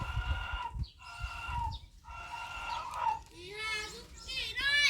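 Chickens clucking and calling close by, mixed with children's voices and chatter in the background.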